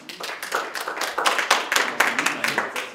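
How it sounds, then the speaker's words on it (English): A small audience at a talk gives a brief, sparse round of clapping with individual claps audible, close and moderately loud. "Round of applause."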